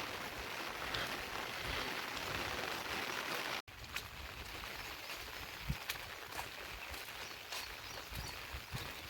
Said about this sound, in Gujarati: આજે તો રાતનો પણ વરસાદ ચાલુ હતો ને સવારમાં પણ ચાલુ થઈ ગયો